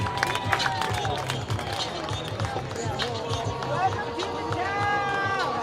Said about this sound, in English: You hear the roar of the crowd for the 2025 baller, just reacquired